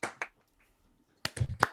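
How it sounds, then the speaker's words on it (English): Brief scattered hand claps in an online community meeting, a couple of isolated claps followed by a short cluster of close, sharp claps after a pause. "should we give Felix a bit of a round of applause?"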